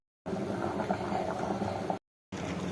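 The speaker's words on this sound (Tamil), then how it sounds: "குழம்பு நல்லா கொதிக்குது." A pot of meat curry with ground coconut bubbling at a rolling boil, dense and continuous, briefly cut off near the end before resuming, close up with no voices.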